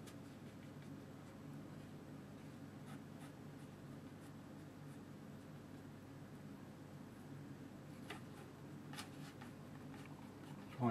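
A corner of a piece of card scrapes across watercolour paper to texture painted rocks. The faint, close scratching continues throughout, with a few sharper strokes near the end.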